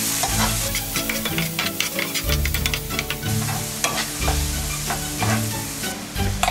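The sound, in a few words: diced Spanish onion frying in pan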